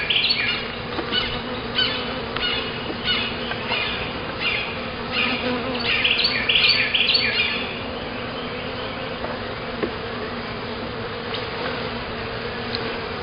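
Honeybees buzz steadily in an opened hive during an inspection, a dense close humming swarm with brief louder passes of individual bees near the microphone and no talking.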